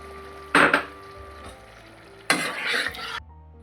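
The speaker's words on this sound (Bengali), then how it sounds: "এবার বাটি ধোয়া জলগুলো দিয়ে দিচ্ছি" Bowl-rinsing water is poured into a hot pan while chili paneer cooks, setting off two loud, close hissing bursts about two seconds apart, each fading back to a low simmer, with no talking.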